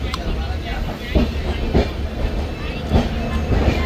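Passenger train running on rails, heard from inside a carriage: a steady rumbling roar with rhythmic clickety-clack wheel beats recurring every second or so, loud and continuous.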